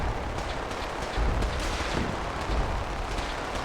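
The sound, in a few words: missile launcher explosions in a video game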